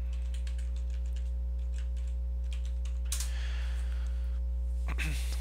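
Quick, light keystrokes on a computer keyboard as a password is entered, a soft run of clicks over a steady electrical hum, ending in a brief burst of faster taps.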